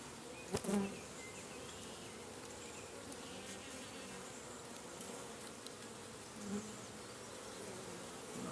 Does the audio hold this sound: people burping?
no